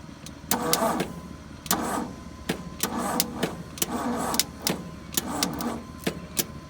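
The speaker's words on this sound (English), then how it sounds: "Got a little arcing noise." Sharp electrical crackles and snaps from a loose starter wire on a 1963 Ford F100 repeat in bursts of about one per second, each followed by a rough buzzing, close and fairly loud with a steady hum underneath.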